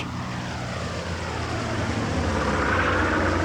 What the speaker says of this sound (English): It's an aeroplane. A plane!